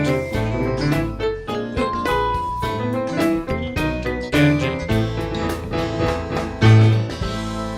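A TV theme played at full speed along with a backing track: a lively instrumental with a punchy low bass line, bright melodic notes and regular beats, steady and fairly loud, no talking.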